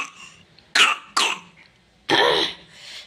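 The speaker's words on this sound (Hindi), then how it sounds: "इसको खांसी आ रही है" Small child coughing in a home, with three harsh bursts close to the mic: two quick ones close together, then a longer, rougher cough after a pause.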